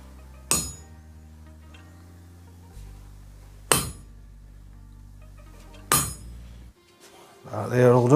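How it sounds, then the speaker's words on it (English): Three sharp metallic strikes, spaced a couple of seconds apart, ring out close by as a hammer hits a centre punch on metal to mark a drill hole; a voice begins at the end. "just centre pop where the hole needs to be drilled"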